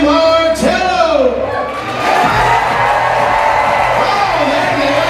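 A comedy club audience cheers and whoops loudly for an announcer taking the stage, with high shouts rising over a dense, continuous crowd roar that holds steady throughout.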